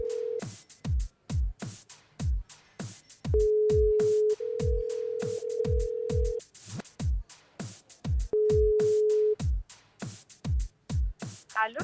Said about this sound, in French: Alors on va appeler Virginie.